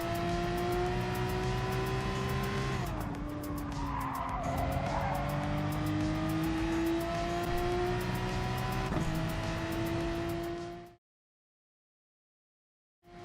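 A Gr3 Porsche race car in a racing game at Monza accelerates hard, its engine note climbing through the gears with tire squeal and skidding, loud and close, then cutting to silence near the end.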